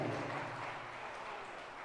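Applause from an audience at a Jain religious gathering, a dense steady patter of many hands clapping filling the space, fairly even in loudness throughout with no voices over it.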